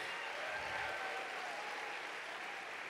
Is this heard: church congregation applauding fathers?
yes